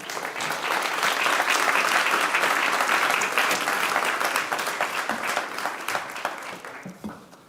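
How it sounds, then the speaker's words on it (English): A conference audience gives warm, full applause for the European Commission Executive Vice President, a thick wash of clapping that holds steady, then gradually tapers off. "can we have a very warm round of applause, please, for Maroš Šefčovič"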